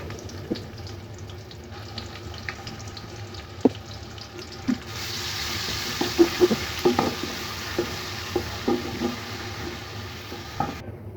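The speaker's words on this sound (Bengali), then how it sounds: "আমি এখন পেঁয়াজ বাটা দিয়ে দিব পেঁয়াজ বাটা দিচ্ছি আমি দুই টেবিল চামচ" Onion paste hitting hot oil for chicken biryani, a soft steady sizzle with scattered stirring clicks and scrapes, close and fairly quiet, no voices.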